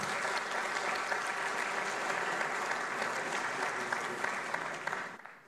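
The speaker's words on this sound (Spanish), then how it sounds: "Bueno, fuerte el aplauso entonces también para los dos." A conference audience at an agricultural seminar on the plum market claps warmly for two speakers, a sustained, even wave of hand claps that carries on without voices and then fades out quickly at the end.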